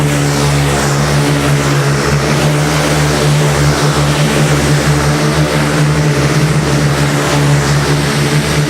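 Racing karts at a world masters super final drone steadily as they run through a hairpin, a continuous dense buzz of several engines at close range, with no talk over it.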